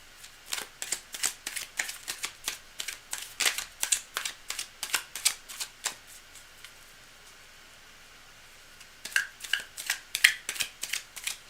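Rapid bursts of card riffling repeat in quick succession, a brief pause, then more crisp riffles; close and fairly loud with no talking.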